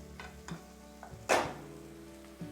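Spices going into a pan of steamed peas and potatoes for aloo matar, a faint gentle sizzle with a few light taps and one sharper burst of frying, quiet and close.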